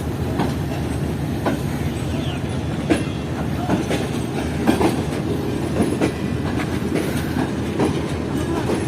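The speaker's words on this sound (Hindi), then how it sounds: "ट्रेन के साथ, शालीमार एक्सप्रेस के साथ।" Shalimar Express passenger train running on its rails, a steady loud rumble with rhythmic clickety-clack of wheels over joints and occasional sharp knocks throughout.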